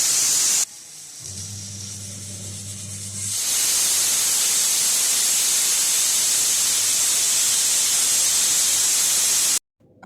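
Steam hisses steadily and loudly from a pressure cooker on a stove, with a brief low tonal hum near the start before the broadband hiss takes over and runs almost to the end.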